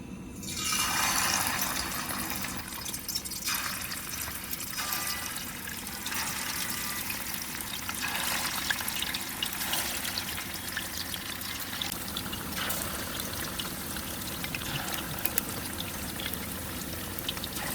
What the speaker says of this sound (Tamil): 2 கப் எண்ணெயை இதில் ஊற்றிக்கிறேன்.